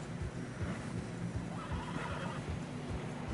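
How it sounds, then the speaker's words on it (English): A horse neighs while trudging through deep fresh snow in Red Dead Redemption 2. The whinny sounds close and sits over a continuous, muffled plod of hooves. "Horses are struggling."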